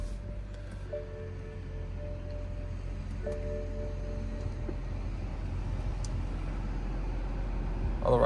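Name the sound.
BMW E90 engine running after being started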